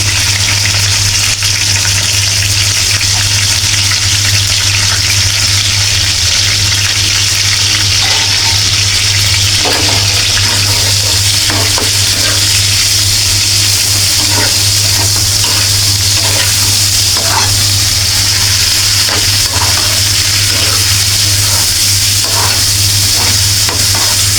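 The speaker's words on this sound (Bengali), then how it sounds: "পেঁয়াজটা নরম হয়ে গিয়েছে এখন দিয়ে দিচ্ছি মাংসগুলো" Meat sizzles and frying noise rise steadily in a pan of softened, browned onions for a vegetable roll recipe, with occasional stirring scrapes over a constant low hum, close and loud throughout.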